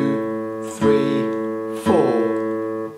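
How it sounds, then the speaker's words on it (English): Two sustained instrumental notes, each struck on a beat about a second apart, with rich harmonic tone ringing between attacks; played cleanly and alone. "when you play a crotchet and you count at the same time, a crotchet will sound like this"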